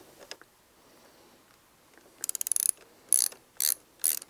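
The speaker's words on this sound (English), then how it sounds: "I can also fixate the front screw using a hex key number 5." A number 5 hex key turns a screw on a handguard of a Honda CRF300L motorcycle, giving several sharp, close metallic ratcheting bursts after a near-silent start.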